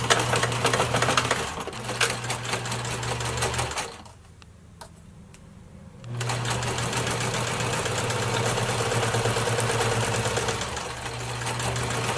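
A sewing machine stitches fabric to close up a hole, running steadily with a fast clattering rhythm that stops for about two seconds in the middle before starting up again.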